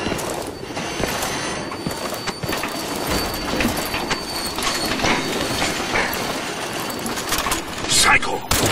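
A train rolling through a level of the video game Crysis 3, a dense, steady rumble and rattle across the whole stretch, with voices talking over it.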